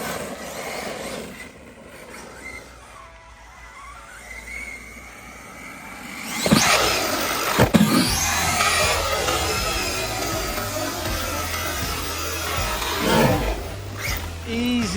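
Hobao SSTE RC truck on 6S power tearing across grass, a quiet whine at first, then a loud surge of motor roar and tyre scrub with bursts of acceleration.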